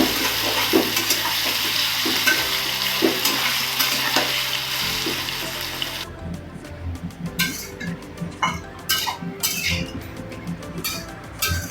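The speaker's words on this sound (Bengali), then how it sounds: "ভালো করে ভেজে নেব।" Potatoes with turmeric sizzle loudly in hot oil, then a spoon scrapes and stirs the pan, the sizzling continuing beneath clinks and rustles.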